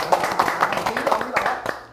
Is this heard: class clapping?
yes